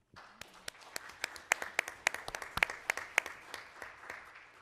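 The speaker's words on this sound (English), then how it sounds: "I think that deserves a round of applause" A small gathering at a school district governing board meeting claps sparsely, a handful of distinct, sharp hand claps close by, picking up then thinning out.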